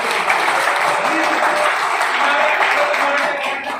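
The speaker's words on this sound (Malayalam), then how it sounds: "എല്ലാവരും ഒന്നുകൂടി ഒന്ന് കൈയടിച്ച് പാസ്സാക്കിയേ" An audience claps together at an annual meet in the Pearl Palace Hotel, Kochi, producing a loud, dense, sustained burst of applause that fades slightly at the end.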